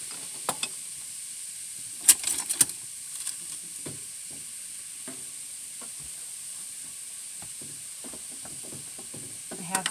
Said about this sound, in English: See how it sizzles like that?